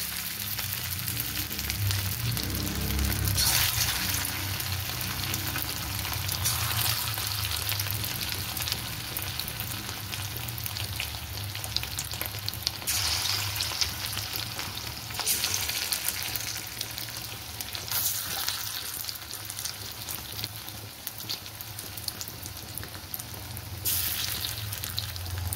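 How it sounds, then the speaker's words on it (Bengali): Garlic chicken pieces coated in cornflour fry in hot oil in a wok, making a long, steady, rain-like sizzle that swells now and then with louder bursts, near and unbroken by speech. "কড়াইতে তেল বসিয়ে দিয়েছি, তেলটা গরম হয়ে গেছে। এবার মাংসগুলো আমি সব ভেজে নেব।"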